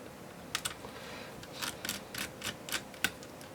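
Small tool clicks and taps as a screwdriver works the fan screws loose inside a Lenovo V130-15ISK laptop, about a dozen sharp close ticks in irregular bursts over a faint background hiss, with no talking.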